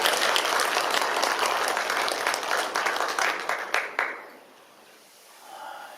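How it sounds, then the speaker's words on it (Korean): A church congregation at a Sunday worship service breaks into sustained applause, dense and even for about four seconds before stopping abruptly, leaving a quiet room and a faint voice. "우리 다시 한번 박수 한번 하도록 하겠습니다"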